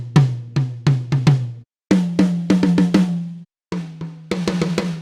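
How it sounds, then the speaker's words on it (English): High tom hits from the Tokyo Scoring Drum Kit sample library, struck alone in three quick bursts of four to five strokes each, every hit a short pitched thump with a ringing decay, loud and close. "we can switch as easily as clicking on another high tom."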